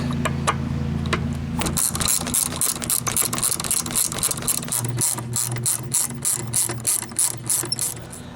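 A ratchet wrench removes 6mm hex bolts from a motorcycle seat, making fast, steady runs of sharp clicking close to the mic with no talking.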